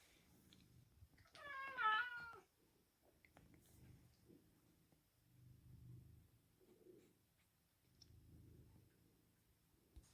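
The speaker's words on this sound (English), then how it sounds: "Look, there's a cat." A cat lets out a single clear, rising-and-falling meow early on, close and moderately loud, followed by faint low rustling and soft background sounds.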